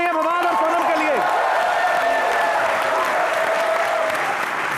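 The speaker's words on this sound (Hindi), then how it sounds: "बार जोरदार तालियां फवाद और सोनम के लिए।" A studio audience on a Hindi comedy show breaks into loud, continuous applause, dense clapping under musical stings and a swelling fanfare, with no voices over it.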